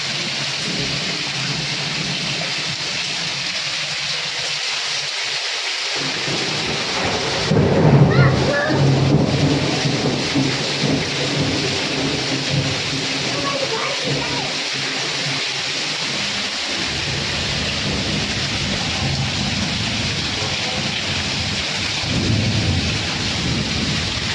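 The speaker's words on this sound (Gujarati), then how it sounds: "તમારે ઘરે વરસાદ આવ્યો અને બરફ પડે બરફના કરા પડ્યા" A steady downpour of rain and hail drums on surfaces, with a loud thunder rumble partway through and faint voices.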